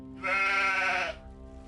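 A single sheep bleat in the Gothic mod Chronicles of Myrtana: Archolos, one sustained, wavering cry lasting about a second, close and clear over faint background.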